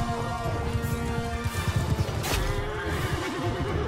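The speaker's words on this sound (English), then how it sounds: "A couple of horses in the area." Horses neigh and whinny amid a Mount and Blade II Bannerlord cavalry battle, several calls rising over a dense, continuous din of clattering hooves and fighting, with no talk.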